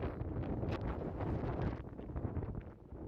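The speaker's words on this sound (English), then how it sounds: "You gotta be able to hear the wind now that I took the external mic off." Strong wind buffets a bare camera microphone on the Las Vegas Strip on a windy afternoon walk, a constant loud low rumble with gusty swells and no talking.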